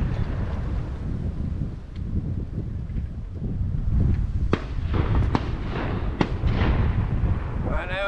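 Shotgun shots ring out during a duck hunt on the opening day of the season, several sharp distant bangs over steady wind noise on the microphone, with occasional talk nearby.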